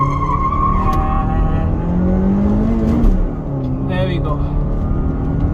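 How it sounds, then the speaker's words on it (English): Petrol manual car launched from standstill in first gear at 4500 RPM with traction control off, a loud close engine roar with tyre squeal and wheel spin, then the pitch shifts as it pulls away, a voice speaking briefly over it. "Tons and tons of wheel spin"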